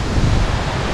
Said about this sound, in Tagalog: Umangin na ng malakas.